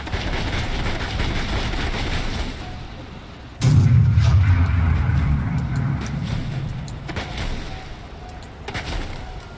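Howitzer artillery fire in a video game lands as a sudden heavy boom followed by a rumbling low roar that slowly fades, over a background of game noise and a few sharper later bursts.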